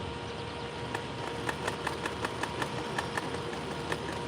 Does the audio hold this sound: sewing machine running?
yes